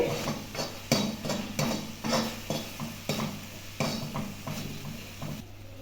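Garam masala is stirred into gobi masala in a pan: repeated clanking scrapes of a spoon against the pan in an uneven rhythm over a low sizzle, close and fairly quiet, with no speech.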